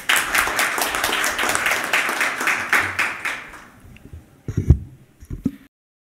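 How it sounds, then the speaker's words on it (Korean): An audience at a panel discussion on access to drug safety information claps steadily and fairly loudly for several seconds, then the applause fades, leaving a few thumps and handling noises. "박수로 맞이해 주시기 바랍니다."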